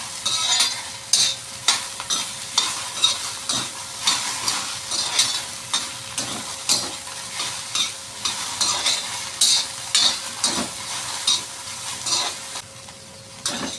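Sliced okra (bhindi) sizzles in plenty of hot oil while a spoon scrapes and stirs it around the pan in repeated, rhythmic strokes, close and clear, with a steady frying hiss underneath and no talking.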